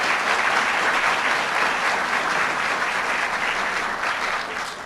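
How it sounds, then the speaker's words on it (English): Loud, dense applause from a State of the State audience in Jamestown greeting Senator Catherine Young, a steady wash of clapping that holds for several seconds before easing slightly at the end. "Let's give her a round of applause, Senator Catherine Young."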